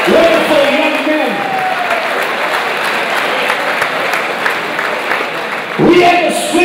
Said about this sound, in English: can we give these guys a round of applause, please?